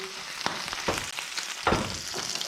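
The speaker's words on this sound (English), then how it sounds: "olive oil, hot pan. We're going to go straight in with our fish heads and shells" Prawn heads and shells dropped into hot olive oil in a pan, a close, loud crackling sizzle with bursts of spattering and a few stirring scrapes, no speech.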